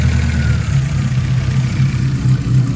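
A car engine with a carburetor being tuned, heard as a loud, steady low idle rumble with a slight wavering hum and no clear revving.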